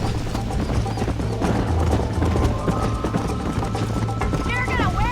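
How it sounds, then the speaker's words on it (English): A horse gallops with rhythmic hoofbeats through Red Dead Redemption, the clip-clop running steadily over a background of game sound, with a brief whinny-like sweep near the end. "You're gonna wear that horse out!"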